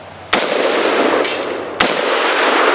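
Loud, close gunshots from a .308 battle rifle fired outdoors at a 2-liter bottle: three sharp cracks, with a fainter fourth, each followed by a ringing tail.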